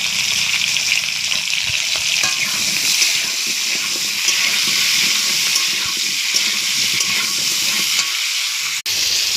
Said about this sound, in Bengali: এবার পটলটা ভাজা করে নেব।